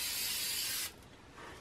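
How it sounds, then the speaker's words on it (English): Blair Very Low Odor workable fixative is sprayed from a can in one quick, steady hiss lasting under a second, then it cuts off into quiet room tone. "I'm going to spray it very quickly and very lightly."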